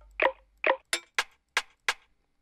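Rimshot drum sample in FL Studio for a bouncy hip-hop beat: two sharp clicky hits followed by four brighter, snappier cracks, evenly spaced and clean with nothing else sounding.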